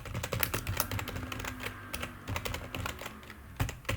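Rapid typing on a computer keyboard while entering C++ unit test code, a dense, irregular run of close, crisp key clicks with brief pauses, alone without speech.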